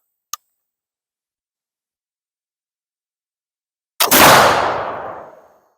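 A single loud gunshot from a Lyman Great Plains black powder rifle fired outdoors at a soda bottle, a sharp blast with a long decaying tail, after a small click and near silence.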